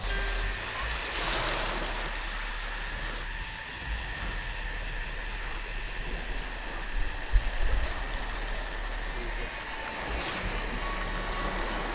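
Sea waves wash steadily onto a beach on Koh Phangan, Thailand, a continuous broad rush that swells slightly midway, with no one speaking.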